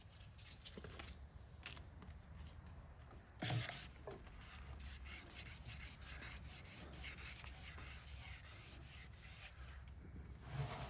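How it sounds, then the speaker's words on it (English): Hand sanding with the fingertips to cut down a ridge, a soft, continuous scratchy rubbing at close range with a few slightly louder strokes and no talking. "Normally you don't sand with your fingers, you keep them flat, but in some cases when you're trying to cut down a ridge like this, yes you do."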